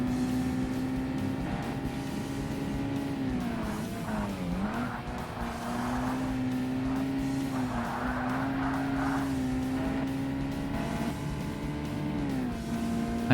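Mazda Miata race car engines in Forza Motorsport on Xbox, a steady loud droning engine whine with pitch dips as gears shift and cars run close together, sustained throughout with no talking.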